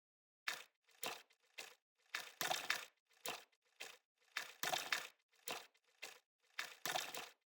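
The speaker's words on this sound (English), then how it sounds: "it will start playing these slices randomly, converting into a beat." A randomized beat made from sliced smartphone field-recording snippets in XLN Audio LIFE, with crunchy, crackling percussive hits in a steady, looping rhythm, fairly faint and alone.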